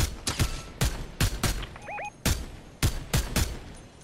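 Fortnite video game gunfire, a string of sharp, close reports in irregular bursts with brief pauses between them, plus a short rising electronic chirp partway through.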